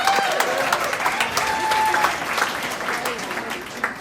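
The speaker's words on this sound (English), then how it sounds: "a round of applause for yourselves" Guests at an animal shelter's masquerade ball fundraiser applaud themselves, a dense, fairly close burst of clapping that carries on for several seconds with a few voices and a brief whistle-like tone.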